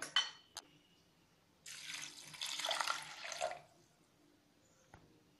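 Water poured from a cup into lentils in a pot for cooking, a soft steady splashing pour lasting a couple of seconds between brief knocks, close and fairly quiet with no talk.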